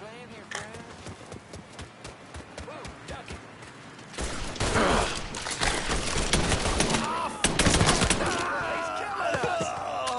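Mafia 3 gameplay gunfire: rapid sharp shots crack in bursts, starting sparse and quieter, then growing louder and denser into heavy, near fusillades mixed with impacts and game noise, with a voice speaking among them.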